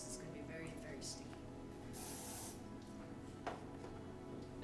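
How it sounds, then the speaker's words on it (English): A short, sharp hiss of non-stick cooking spray from a can bursts out once amid faint background clatter, with a brief click afterward. "get some no stick spray because this is going to be very, very sticky"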